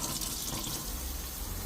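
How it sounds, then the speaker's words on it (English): Hot water runs from the faucet into a 15 by 13 inch, 10-inch deep sink in a DIY campervan, a steady close splashing stream. "Instant hot water."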